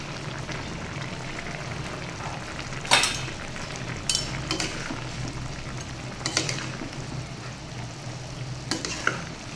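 A spoon stirs vegetable curry seasoned with fennel powder as it fries in a pan: a continuous sizzle under several sharp scrapes and clinks of utensil against metal, with no talking.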